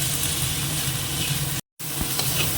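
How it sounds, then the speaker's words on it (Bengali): Spices with cumin, turmeric and chilli powder fry in a pan, a steady close sizzle with light stirring, broken by a brief moment of total silence. "এবার মশলাটাকে কষিয়ে নেবো"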